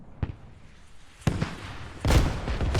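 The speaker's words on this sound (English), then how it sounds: "As the Grad now comes in, and the Grad has dialed him in" Grad rocket artillery striking in a military video game, with three separate sharp blasts landing at intervals, the last ones heavier and rumbling on into a sustained roar.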